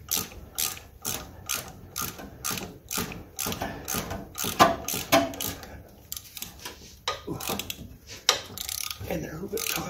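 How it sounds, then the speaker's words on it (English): A ratchet wrench clicks rapidly and rhythmically, loosening a long-threaded nut on the fuel pump of a Continental Mark III in a close, mechanical series of pawl clicks with brief pauses. "I'm going to take this nut off, it's kind of long."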